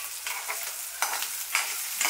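Potatoes sautéing in a pan give a close, steady frying sizzle, with several scraping stirs spaced at roughly half-second intervals.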